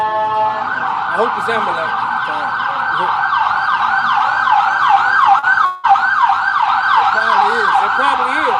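A private ambulance siren wails in rapid, repeating up-and-down sweeps, loud and close as it passes on a city street, with a brief dip midway; someone speaks briefly over it.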